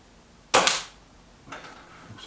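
A Kral NP-03 air rifle fires a heavy JSB pellet, one sharp close crack with a short decaying tail, then a faint softer knock about a second later.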